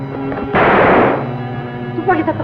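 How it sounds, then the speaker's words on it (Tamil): Gunfire rings out in the Tamil film Ulagam Ivvalavuthan, a loud burst of shots lasting about half a second that cuts through ongoing tonal music, with a voice and melody continuing around it. "துப்பாக்கி சத்தம் அங்கேயும் கேட்குது"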